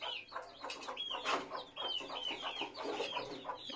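A desi hen with her chicks in a rooftop cage clucks in short, repeated bursts, mixed with thin chick peeps, fairly near and moderately quiet with no voices.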